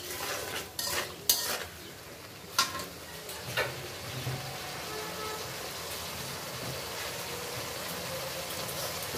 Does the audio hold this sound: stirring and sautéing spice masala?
yes